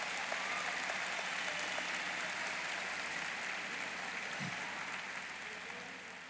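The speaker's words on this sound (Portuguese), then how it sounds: "Dê um aplauso a Jesus." Steady, fairly quiet applause from a church congregation, a continuous wash of clapping that holds evenly and slowly fades toward the end, with no speech over it.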